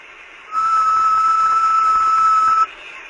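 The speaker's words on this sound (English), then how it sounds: "hopefully you should have heard me whistling over the internet" A person whistles one steady, piercing note for about two seconds, close and loud, starting and stopping abruptly against a quiet room.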